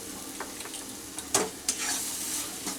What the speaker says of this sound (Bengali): খুব ভালো করে মশলাটা এর মধ্যে মিশিয়ে নিচ্ছি